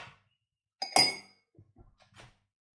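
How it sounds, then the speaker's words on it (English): Metal spoons clink into Nespresso Vertuo coffee mugs: one bright, ringing strike followed by a few softer, quicker taps nearby, with no one speaking. "So let's put the spoons in them as well,"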